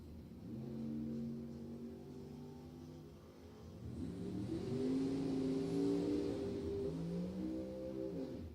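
A Chevrolet Camaro and a Dodge drag race down a racetrack, engines revving hard with rising harmonic tones across two runs, loud and fairly close, with no talk over them.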